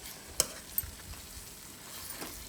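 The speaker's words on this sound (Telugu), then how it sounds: "ఆ తర్వాత ధనియాల పొడి కూడా వేసుకొని కలుపుకుందాం" A spoon stirs curry in a pan after coriander powder goes in for a chana dal gongura pulusu, with faint sizzling and a couple of sharp clinks against the pan, quiet and without speech.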